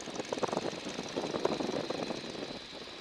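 A small propeller airplane's engine hums steadily in the cockpit as power is added, at moderate, even volume, a continuous droning throb with no talk over it.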